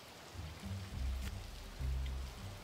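Steady rain falling in the submarine video game Seablip, a soft continuous patter with low rumbling swells underneath, heard alone.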